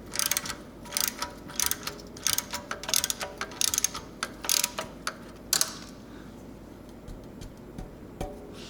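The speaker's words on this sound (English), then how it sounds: "now I'm going to break the rest of those header nuts loose" A wrench works loose the header nuts on a Yamaha FJ-09 motorcycle exhaust, giving bursts of close ratcheting clicks in quick runs, then a pause with a few isolated metallic taps, no talking.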